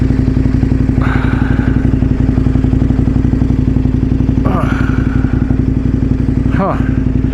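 A dual sport motorcycle rides through the desert with a steady, loud mid-pitched engine drone and rhythmic pulsing, plus a few brief revs and rising engine swells.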